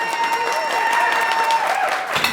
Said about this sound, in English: I'm not gonna stop until you stop clapping, so clap right now